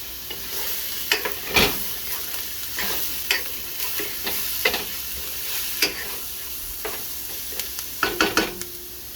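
Lasagna sauce sizzling in a pan during deglazing, a soft steady fry hiss broken by sharp clicks and scrapes of a utensil stirring, close and with no voices.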